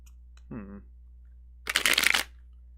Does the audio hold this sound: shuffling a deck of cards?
yes